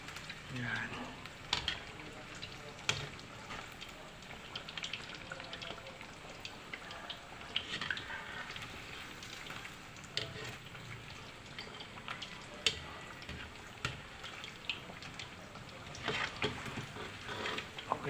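Steady crackling and sizzling of pork bagnet (pork jowl) frying in hot oil, a dense popping texture running throughout with faint background noise.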